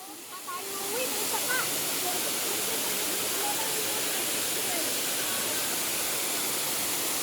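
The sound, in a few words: Ng Tung Chai waterfall, Hong Kong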